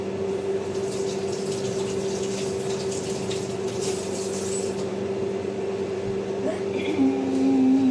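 A kitchen tap runs steadily as peppers are rinsed under it, a constant close stream of splashing water with a low hum and faint handling noises.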